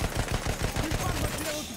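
Rapid gunfire in the video game Battlefield 1 rattles in quick bursts, loud and close, with a voice partly over it.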